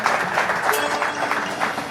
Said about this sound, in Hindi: एक बार अच्छे से ताली बजा दो शिवम के लिए।